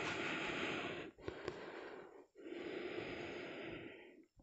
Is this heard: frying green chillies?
no